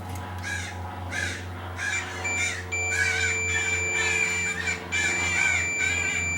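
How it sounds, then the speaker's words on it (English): Crows caw repeatedly outside a workshop where a Mitsubishi CRT TV is being repaired, harsh calls coming in bursts, loud and fairly near, over a low hum and a steady high electronic whine. "Shut up, crows"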